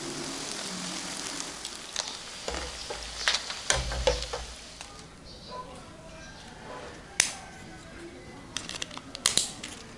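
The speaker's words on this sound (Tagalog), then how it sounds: "I-deep fry lang natin to sa medium heat" Dough deep-frying in oil at medium heat gives a soft crackling sizzle, with scattered sharp pops and clicks over a faint steady hiss.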